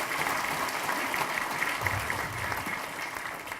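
Party members at a 2018 Liberty Korea Party new year reception for its South Chungcheong and Sejong chapters give a dense, continuous round of applause from a large hall crowd, steady and sustained throughout.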